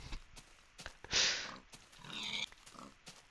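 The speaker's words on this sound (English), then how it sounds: "Pigs!" Pigs oinking in the Minecraft Beta 1.7.3 video game, a short run of grunts rising clearly over quieter game sounds, loudest near the middle, with a second softer burst shortly after.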